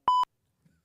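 Single short censor bleep, a clean electronic tone lasting about a fifth of a second, loud and alone, followed by silence.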